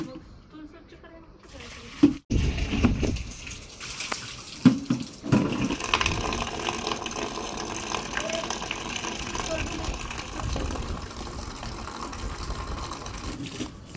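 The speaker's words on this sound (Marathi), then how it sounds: "चूल धुतेस का तू तू चूल धुतेस का चुलीवर पाणी का मारत्या" Water splashes and runs in bursts while washing a clay stove, with a few sharp thuds early on, followed by a steady wet rushing sound under faint talking.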